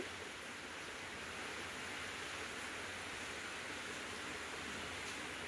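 Steady heavy rainfall outside a home, a continuous dense rushing hiss holding at one level for several seconds, without voices or other sounds on top.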